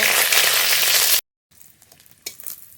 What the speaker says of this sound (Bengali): রসুনটা একটু ভাজা ভাজা করে নেব